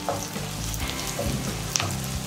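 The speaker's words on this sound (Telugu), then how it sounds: "దానివల్ల బెండకాయలు కూడా లైట్గా వేపుకోవాలి" Okra pieces fry lightly in oil in a pan for a fish curry, giving a steady close sizzle and crackle with a few soft stirring scrapes and one sharp clink near the end.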